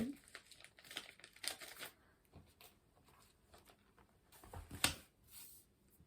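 Paper with written words is folded up by hand in soft, close crinkles and rustles that come in uneven bursts, with one sharper crease near the end.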